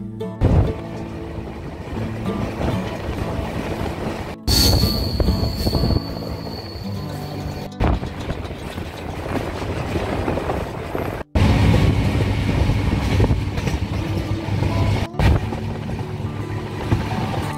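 Inside a moving train on a Dooars journey near Lataguri, a loud continuous rumble of wheels on rails with rhythmic clatter and brief sharp breaks, steady throughout with no talk.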